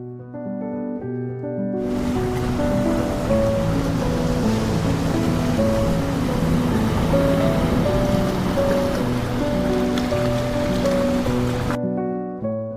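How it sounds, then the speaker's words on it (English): Iguazu Falls roars in a dense, continuous wash of crashing water, loud and unbroken, while steady tonal music plays over the top from start to finish. "The roar of the falls can be heard from miles away"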